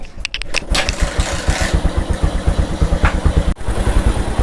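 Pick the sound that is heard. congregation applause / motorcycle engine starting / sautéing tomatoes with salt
motorcycle engine starting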